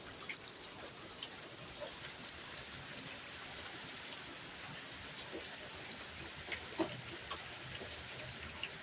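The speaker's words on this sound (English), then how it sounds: "Pouring down rain." Heavy rain pours down steadily at a home in Texas, a dense, continuous hiss of drops drumming on surfaces with scattered nearby drips and splashes, heard alone with no talking.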